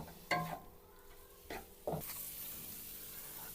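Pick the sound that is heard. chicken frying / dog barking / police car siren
chicken frying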